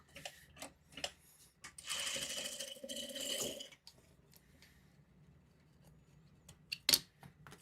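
A sewing machine stitches fabric in a quilting setting, running in a brief steady whir of about two seconds amid scattered clicks and handling taps, fairly quiet and without talk.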